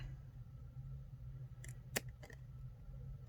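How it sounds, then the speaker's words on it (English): Scissors snipping through tarot cards for a DIY deck trim, a few faint quick crisp cuts close by in a quiet room, with no talking. "for now I'm sticking with the scissors"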